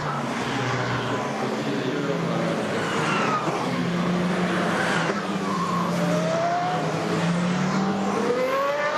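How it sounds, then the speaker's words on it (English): Race cars on the warm-up lap before the start of the 2009 Le Mans 24 Hours endurance race, a steady roar of engines passing continuously with rising and falling engine notes, loud and unbroken throughout. "Cars on the warm-up lap at Le Mans"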